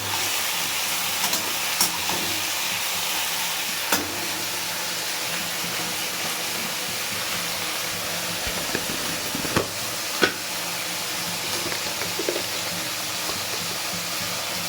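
Whole prawns frying in very hot oil in a pan, a steady close hiss and sizzle running throughout with a few soft clicks and taps over it.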